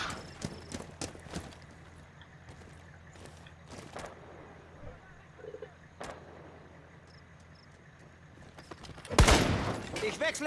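Scattered gunfire in the game Rainbow Six Siege pops out amid ambient game noise, with a dense, louder burst of shots near the end.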